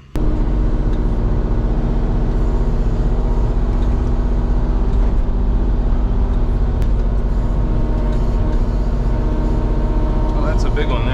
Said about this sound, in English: Definitely better to use that excavator to pick them up, throw them on the trailer.